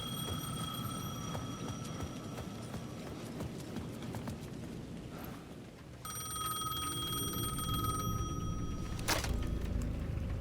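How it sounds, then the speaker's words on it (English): A ringing payphone at the edge of a plaza in the video game Alan Wake 2, its electronic ring repeating in steady bursts over a low, rumbling ambient bed. "The payphone at the edge of the plaza was ringing again."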